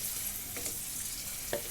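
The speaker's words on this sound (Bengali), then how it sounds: "কষান হয়ে গেলে আমি এখন ফুলকপিটি দিয়ে দিলাম। দিয়ে নাড়াচাড়া দিয়ে ভালো করে" Cauliflower tossed and stirred in a hot pan, a dense continuous sizzle with a couple of soft scraping strokes from the spatula, close by and steady.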